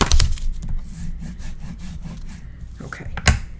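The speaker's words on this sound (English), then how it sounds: "Burnish everything down really well." Burnishing paper edges on a Stamperia Amazonia scrapbook album, close dry rubbing and scraping strokes in an uneven rhythm with a few sharper taps.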